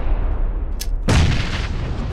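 A video game artillery strike lands as one sharp, loud boom that rolls into a rumbling blast. A faint crack comes just before it, and steady background noise runs through with no talk.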